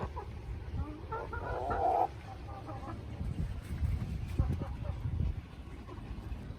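Soft clucking and murmuring from a few hens on roosting bars in a backyard coop, with a brief louder burst of calls early on over a low background rumble.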